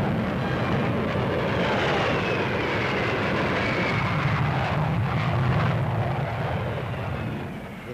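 An Avro Vulcan delta-wing jet bomber with four jet engines passes overhead, its broad, steady engine roar holding loud for several seconds before easing off near the end.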